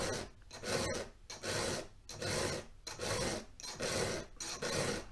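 A hand file sharpens a 200T chainsaw chain in steady back-and-forth rasping strokes, about seven evenly spaced scrapes, close and fairly quiet with no talking.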